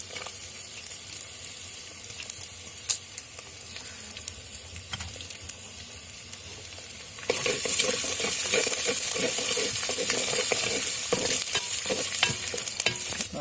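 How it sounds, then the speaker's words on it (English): Garlic fries and is stirred in an earthen pot for an eggplant and tomato curry; a low sizzle with scattered stirring scrapes swells suddenly halfway through into loud, dense crackling frying. "while adding garlic."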